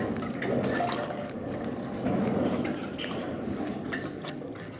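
Rainwater pooled beneath a stainless steel sliding gate, heard as a steady wet trickling and dripping wash that continues at even loudness throughout, with no voices.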